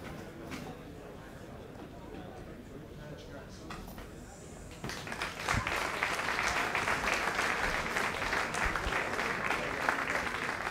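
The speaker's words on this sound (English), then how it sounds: "Big round of applause, ladies and gentlemen" Audience applause swelling after a grappling match ends in a draw, quieter crowd murmur at first, then sustained clapping that rises and holds steady.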